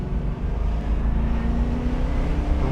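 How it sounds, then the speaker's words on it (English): A 1996 Chevrolet Corvette Grand Sport's LT4 V8 engine drones low and steady while driving, its pitch gradually rising as it pulls, loud and close with no talking. "Great V8 sound from that LT4."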